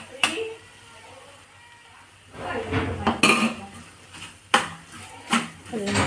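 Fried mussels tipped into a pan with metal clinks and scraping as they are stirred, several sharp utensil knocks against the pan, with a voice talking intermittently.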